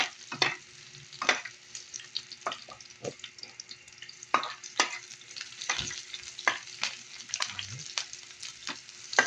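Onions fry in a pan with a steady soft sizzle, broken by frequent sharp scrapes and taps of a utensil stirring them, close and without talk.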